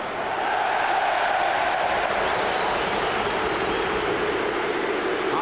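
Full stadium crowd at a Bolton Wanderers versus Arsenal football match, a loud, steady, roaring wash of massed voices that swells slightly and holds without a break.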